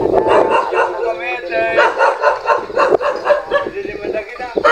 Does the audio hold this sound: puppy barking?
yes